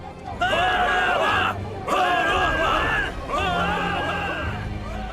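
A crowd shouting in a dramatized Bible reading: three loud bursts of many voices yelling together, separated by brief pauses.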